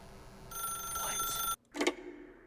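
A telephone rings in The Stanley Parable video game, a single bright electronic trill that sounds for about a second, cuts off, then gives a short second burst, close and clear with no talk.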